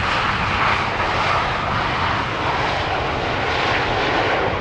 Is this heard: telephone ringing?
no